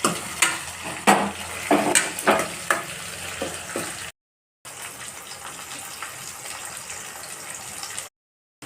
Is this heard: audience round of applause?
no